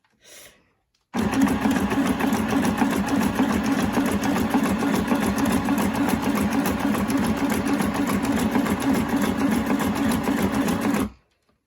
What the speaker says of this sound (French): il n'y a plus qu'à appuyer sur la pédale pour que ça puisse partir